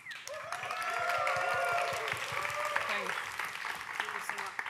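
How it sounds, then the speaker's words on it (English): Faint conference audience applause for the speakers, steady clapping at a distance with voices talking over it. "Big applause."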